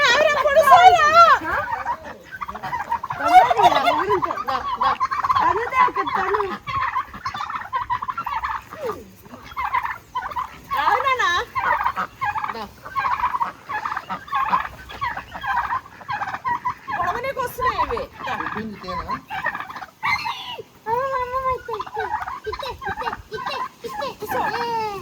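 Turkeys gobbling on farmland, repeated bubbling gobble calls from several birds close by, mixed with people talking and children's voices throughout.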